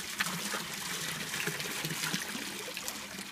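Water from a garden hose running into a garden pond, a steady trickling and splashing flow, soft and continuous with no voices.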